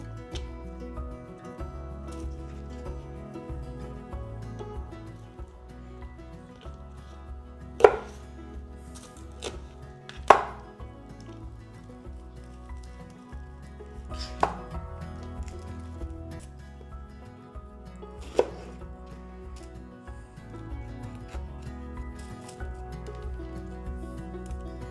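Shishito and padron peppers being chopped on a board: scattered knife strikes, a few sharp loud chops standing out against quieter cutting, alone without voices.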